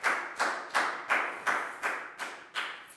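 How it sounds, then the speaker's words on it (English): A single person claps for a student in a classroom, eight evenly spaced, crisp hand claps at a steady rhythm, close and alone without voices. "a big round of applause for Annette, please, guys"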